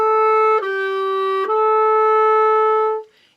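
A clarinet at a beginning band sectional plays a steady sustained tone, shifting note twice with brief breaks near 0.6 and 1.5 seconds, then holding the final note before stopping cleanly, heard alone without talk.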